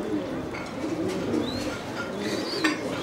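Pigeons coo in a loft, a soft continuous low murmur of several birds nearby with occasional chirps above it.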